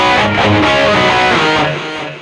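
Loud, crunchy distorted electric guitar tone from a BOSS eBAND JS-10, a couple of strummed chords ringing out and starting to decay at the end, with no voices.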